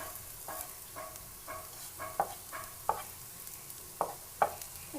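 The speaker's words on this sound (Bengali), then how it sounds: "আমি এই ভাজা উপকরণগুলি একটু ফ্রাইং প্যানের সাইড দিয়ে সরিয়ে দিচ্ছি" Fried ingredients for a village-style pointed gourd and egg dish being pushed to the side of a frying pan, with soft repeated scraping strokes and a few sharper clicks over a low sizzle.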